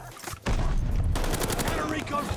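MP40 submachine gun fire in Call of Duty Vanguard: a loud, dense burst starts suddenly about half a second in and continues steadily to the end, with faint talk underneath.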